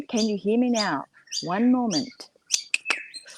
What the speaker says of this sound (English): if you can hear those birds chirping in the background,